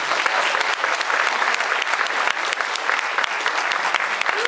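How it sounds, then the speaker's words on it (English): A theater audience at a TIFF screening of Aftershock applauds a lead actor, with dense, steady clapping filling the whole stretch at a strong, even level. "An applause for him."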